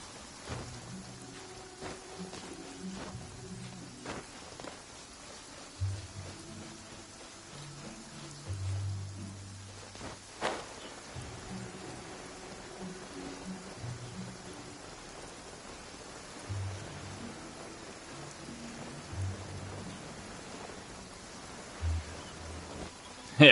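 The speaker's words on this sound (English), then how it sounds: "Oh, I don't like the rain." Steady rain falls in the video game Genshin Impact, a soft, even patter that holds for the whole stretch, with faint scattered thumps and game sounds over it.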